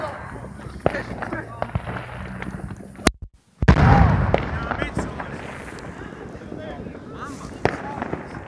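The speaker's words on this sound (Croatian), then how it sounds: "gledamo vatromet, petarde i tako to" New Year's fireworks and firecrackers go off outdoors in sharp, scattered pops and bangs, one louder burst standing out, with people talking and cheering throughout.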